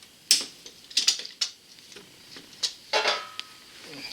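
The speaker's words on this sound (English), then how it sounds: "Now there's a wrench that you can get for this, and I'm just using my channel locks." Channel lock pliers grip and turn the water sensor on a Duramax diesel fuel filter, making sharp metallic clicks and scrapes in irregular bursts, close by and fairly faint.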